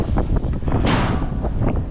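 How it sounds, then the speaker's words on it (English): Strong wind gusting across the microphone aboard a small sailboat fitted with a new mizzen sail, a loud steady roar with a sharper gust near the middle and no talking. "quite windy today though"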